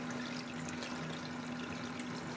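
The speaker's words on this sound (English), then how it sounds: "We've got the good circulation of water" Cooling water runs steadily through a home water-distilling setup chilled with ice, a constant close rushing flow with a low steady hum beneath, no breaks or voices.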